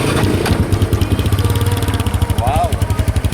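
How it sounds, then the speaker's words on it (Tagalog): Idling exhaust of a EuroMotor VperMan 150 FI underbone motorcycle, a steady low rhythmic thrum close by, with a person speaking over it briefly partway through. "Pakinggan po natin yung kanyang muffler."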